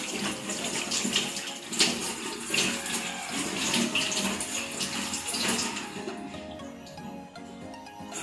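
Tap water runs steadily while hands are rinsed during a nursing skills demonstration, a continuous broadband splash that fades somewhat in the last few seconds, with no talking.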